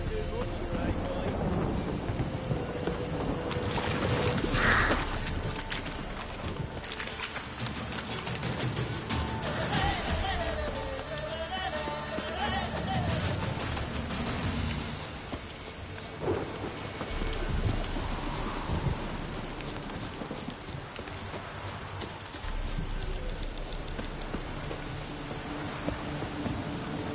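Steady rain and rumbling thunder in the video game The Witcher, a continuous wash of downpour running throughout with a voice speaking over it.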